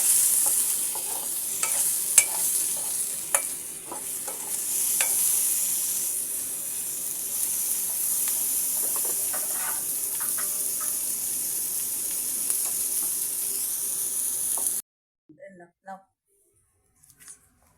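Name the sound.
bottle gourd peel frying in mustard oil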